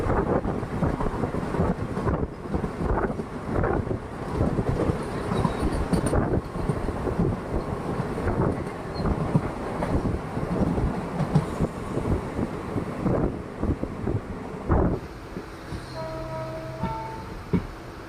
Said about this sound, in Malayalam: കന്യാകുമാരി മാംഗ്ലൂർ സെൻട്രൽ പരശുറാം എക്സ്പ്രസ് ആണ് ഇതാ വന്നുകൊണ്ടിരിക്കുന്നത്